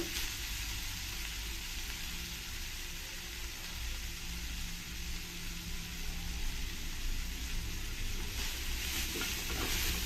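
Momo filling of chopped vegetables fries in oil while being stirred, a dense, steady sizzle with scraping stirs, close and fairly loud, no voices.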